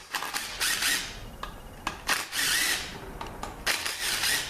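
Power tool loosening T30 bolts that hold an automatic transmission valve body to its case, in a series of short buzzing bursts with brief pauses between, fairly close.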